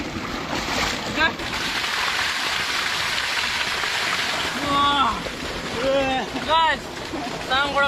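Water splashing and sloshing as someone bathes in a village pond, a steady wash of splashes with voices calling and chattering over it, growing louder toward the end.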